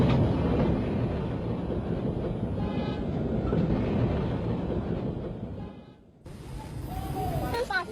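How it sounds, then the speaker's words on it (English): A turn-of-the-century period steam train, engine hauling coaches, rolls by with a loud, continuous broadband rumble that dips briefly near the end before surging back up. "engine and coaches together formed a perfect period train from the turn of the century"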